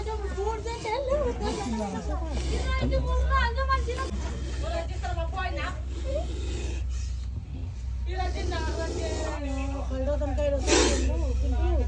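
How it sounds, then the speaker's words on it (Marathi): An angry cobra with its hood raised gives sharp, breathy hisses in bursts, partly buried under the chatter of a gathered crowd talking nearby. "तर नाग आहे मित्रांनो कुठे मशीनचे त्यांना दिसून आलेलं आहे आणि चिडलाय लोक जमलेत"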